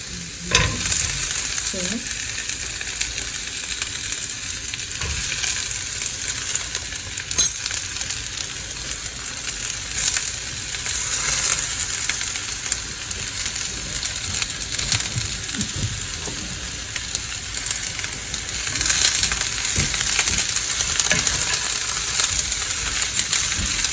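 Onions fry in a pan for a flat bean curry, producing a loud, continuous sizzle with scattered scraping and stirring clatters over the whole stretch, with no talking.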